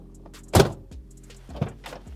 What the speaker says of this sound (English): And just listen to this door real quick.